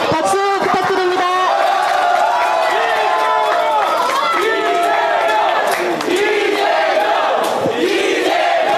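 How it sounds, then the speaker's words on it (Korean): A crowd at a Korean youth-pass policy meeting with party leader Lee Jae-myung cheers loudly, many voices shouting and whooping over dense clapping with no pause. "박수 부탁드립니다."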